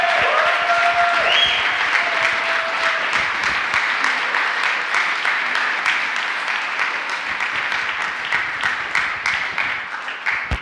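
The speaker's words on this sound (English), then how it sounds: "Please give a round of applause." An audience at a European youth conference in Sofia gives a round of applause, loud and sustained, with individual claps standing out more clearly as it thins toward the end.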